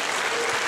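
Brief burst of congregation applause in a church service, a dense wash of clapping hands filling the whole moment without a break.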